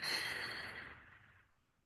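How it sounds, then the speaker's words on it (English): A slow, gentle exhale during a hatha yoga breathing exercise, a soft breathy rush that starts moderately loud and fades steadily to near silence over about two seconds. "Exhale it out."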